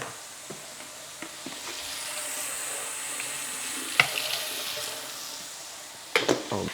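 Tap water running steadily in a kitchen sink while juicer parts are rinsed, a constant hiss with occasional clanks and knocks of the parts, louder clattering near the end.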